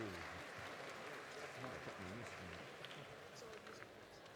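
Convocation audience at a university spring ceremony applauding, a dense steady wash of clapping that fills the hall throughout, with voices mixed underneath.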